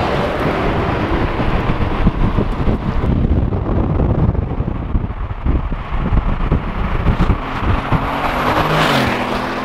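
Steady road and wind roar from the back seat of a moving Toyota Yaris, a continuous loud rumble with no talking.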